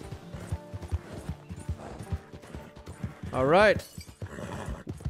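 Horse hooves clip-clopping in Red Dead Redemption 2, followed by one loud, rising and falling whinny midway, with a voice talking briefly over the game audio.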